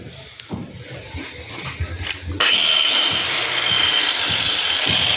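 A power cutter fitted with a 5-inch blade, used for cutting grooves, starts up and runs at a steady, loud whine after a few seconds of clattering handling noise.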